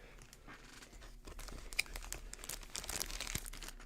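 Nintendo Switch 2 Joy-Con packaging being unwrapped by hand, a quiet stretch of crinkling and tearing plastic and paper that thickens into denser rustling toward the end, with no talk.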